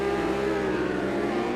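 Supersport race motorcycles on the grid at a MotoAmerica race restart in Pittsburgh, engines held at high revs in a steady, dense buzzing roar, loud and continuous with no talk.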